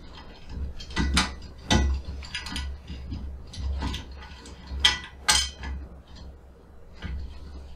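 Threaded metal part on a megatree being screwed on and tightened, with irregular close clicks, clinks and ratcheting scrapes coming in short bursts.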